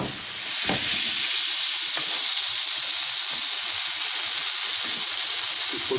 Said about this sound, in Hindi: इसको बड़े ही आसानी से मैं अब इसको मीडियम फ्लेम पे कुक करूँगा